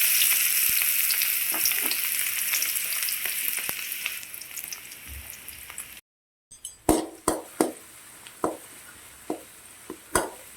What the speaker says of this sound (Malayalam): ഇനി ചൂടായി കഴിയുമ്പോൾ അരിഞ്ഞു വെച്ചിരിക്കുന്ന പൊടിയായിട്ട് അരിഞ്ഞു വെച്ചിരിക്കുന്ന സവാള ഇട്ടൊന്ന് മീഡിയത്തിലൊന്ന് നമുക്ക് വഴറ്റിയെടുക്കാവേ.